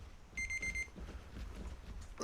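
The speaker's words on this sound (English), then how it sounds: "That's the timer I set for half an hour." A half-hour kitchen-style timer alarm goes off in a short, loud burst of rapid high electronic beeps over steady game background noise, then stops.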